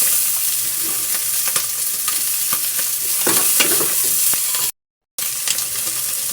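Ingredients fry loudly in hot oil in a pan for pancit, a dense, continuous sizzle broken by stirring scrapes, with a short gap of silence near the end and no talking.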